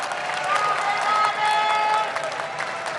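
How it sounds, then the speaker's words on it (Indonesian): Audience applauds the gubernatorial candidate pairs at the East Java election debate, a steady mass of clapping with a few cheers and whistles mixed in. "Waktunya memberikan tepuk tangan untuk seluruh pasangan calon"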